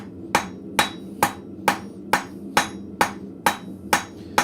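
Hammer planishing hot metal on an anvil at a blacksmith forge, ten sharp ringing strikes in an even, unhurried rhythm, close and clear over a low background hum.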